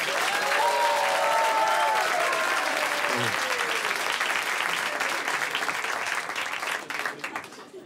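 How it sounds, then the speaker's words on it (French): A comedy show audience in France claps hard for a sponsor, a dense, loud burst of applause with some talk near the start that holds steady before tapering off at the end. "On applaudit très fort la Massif."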